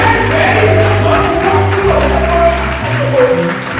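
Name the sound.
congregation applauding and acclaiming the Lord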